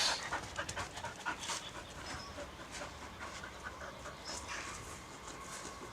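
A dog pants quickly and steadily while digging a hole outdoors, with scraping bursts and some faint background noise, fairly close and fairly quiet.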